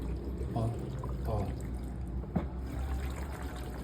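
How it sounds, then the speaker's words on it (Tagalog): Water trickles and splashes out of a fully automatic washing machine during deep cleaning, faint, intermittent liquid dribbles with a sharp knock partway through, over background noise. "Ayan, may tubig po pala."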